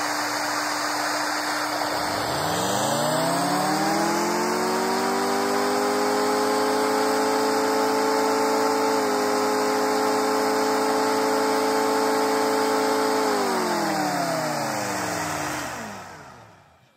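An electric siren running on one AA battery winds up from a low growl to a steady, loud wail, holds for about eleven seconds, then winds down as it powers off.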